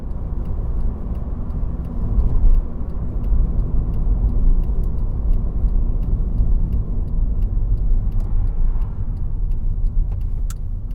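Steady low rumble of a car driving at low speed into a car park during a UK mock driving test, engine and road noise continuous and close, with a few faint ticks on top.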